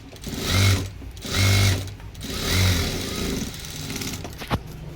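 Sewing machine running topstitching along a blouse strip, three short bursts of rapid whirring stitching separated by pauses, then lighter handling noise and a sharp click, close and clear.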